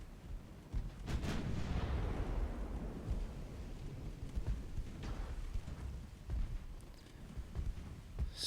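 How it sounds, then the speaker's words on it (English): Naval gunfire in the Ultimate Admiral: Dreadnoughts warship game: a heavy booming salvo erupts near the start and rolls into a long rumbling wash, with further dull thuds and rumbles following throughout, no voices. "So for now it's just a shooting contest"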